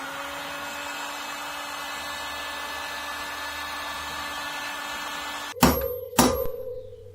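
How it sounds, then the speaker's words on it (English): Two sharp metallic taps from a bearing drift seating wheel bearings on a Garelli Tiger Cross moped, struck close and loud about half a second apart after a stretch of quiet workshop hum. "A few taps with the bearing drift"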